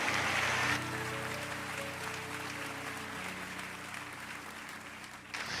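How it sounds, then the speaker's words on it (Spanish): A church congregation applauds during a sermon, a sustained round of clapping over soft sustained organ or keyboard chords, loudest at the start and tapering slightly before a swell at the end. "Denle el aplauso al Señor."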